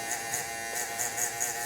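Hair clipper running close, a steady electric buzz with a few brief rises as it taps along a trimmer line while a men's hair system is reapplied.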